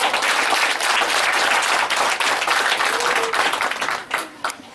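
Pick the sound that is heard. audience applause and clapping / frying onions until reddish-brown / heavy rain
audience applause and clapping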